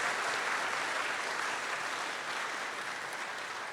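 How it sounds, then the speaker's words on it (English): Steady applause from the crowd at a campus entrepreneurship event in the KNUST Great Hall, honouring GCB Bank PLC. Dense, even clapping fills the whole stretch without any voices. "I want you to clap again for GCB Bank PLC"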